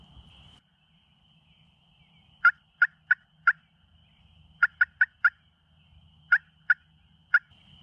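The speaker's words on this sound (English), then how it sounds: "There's like 3 gobbles from down there." Several distant wild turkey gobbles ring out in quick bursts on a spring morning, three clusters of sharp rattling calls over a quiet outdoor background with faint insect hum.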